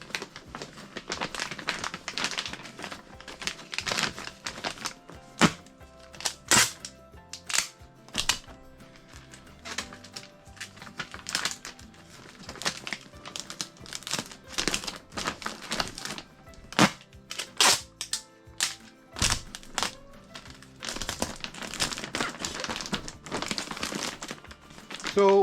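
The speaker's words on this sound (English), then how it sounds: "we're just pulling my plastic vapor barrier bag out around this outlet" A plastic vapor barrier bag is pulled and worked around an electrical outlet during wall insulation, producing repeated loud crinkles, crackles and sharp snaps in irregular bursts.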